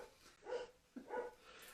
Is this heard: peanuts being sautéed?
no